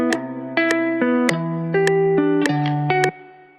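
A plucked guitar melody of bright, ringing notes washed in heavy reverb, each note lingering into the next.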